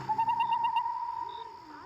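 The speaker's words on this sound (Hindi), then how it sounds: "एक काला उल्लू आकर गाब के पेड़ पर बैठा और अपनी डरावनी आवाज में बोल उठा" An owl hoots in a steady, drawn-out call, fairly close and clear, fading toward the end against a quiet background.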